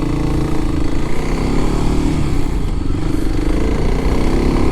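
A Kawasaki KLX300SM motorcycle is ridden on the road on a nice day, its engine a loud, steady, close drone with rapid chugging texture that holds without a break.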